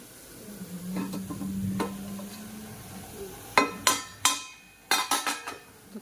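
Paneer bhurji cooks in a pan on a home gas stove, a soft sizzle running under a string of sharp metal spatula scrapes and clacks against the pan, close and distinct.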